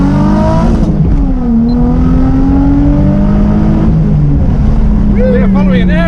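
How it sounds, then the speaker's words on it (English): Cars pull away one after another at a car event, with loud engines revving and rising in pitch as they accelerate nearby, while people talk over them. "Right, cars are starting to go, let's do this."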